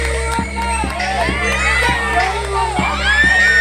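An audience at a Christmas event cheers and shouts to welcome an MLA to the stage, a loud, close crowd with children's voices rising and whooping throughout, a steady rhythmic beat underneath.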